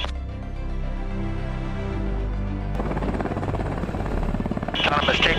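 A Sikorsky OPV Black Hawk helicopter taking off under autonomous control: a steady rotor and turbine drone that swells and grows rougher as it lifts, heard close, with a voice talking over it.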